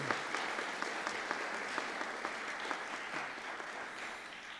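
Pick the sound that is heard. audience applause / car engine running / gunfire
audience applause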